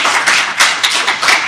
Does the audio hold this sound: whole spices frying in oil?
no